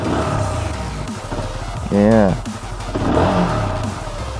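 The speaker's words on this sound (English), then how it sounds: "Here's the sound of how stock exhaust of this bike sounds like." Honda CBR150R motorcycle with its stock exhaust gives a short, loud rev that rises and falls in pitch, surrounded by steady engine noise and brief talk before and after.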